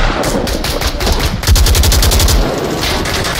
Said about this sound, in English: They're shooting again.